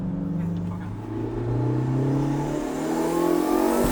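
Engine-swapped Toyota MR2 accelerating with boost turned up, a steady mid-pitched engine drone rising in pitch as revs climb through the gear, heard from inside the car.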